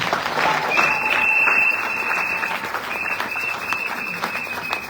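A church congregation at a Sunday service applauds with dense, sustained clapping from a crowd. The applause holds steady for several seconds, with a high whistle-like tone above it.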